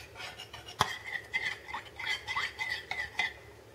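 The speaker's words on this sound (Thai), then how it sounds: "ใส่ผงวุ้นลงไปในน้ำส้มนะคะ1ช้อนชาแล้วก็คนนะคะ" A spoon stirring agar powder into orange juice: a sharp clink against the container, then a run of light scraping and tapping strokes in an uneven rhythm, close and fairly quiet.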